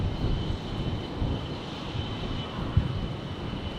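An airplane at Brisbane International Airport roars steadily as a broadband, rumbling wash from a distance. One brief thump stands out near the end.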